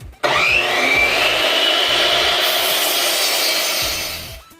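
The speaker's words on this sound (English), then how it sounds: "let's go ahead and cut these boards" A power saw bites into wooden boards for shelves and cuts steadily for about four seconds, loud and close, then winds down.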